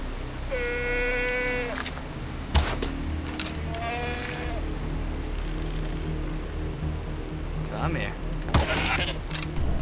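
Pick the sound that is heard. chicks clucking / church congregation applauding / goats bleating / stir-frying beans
goats bleating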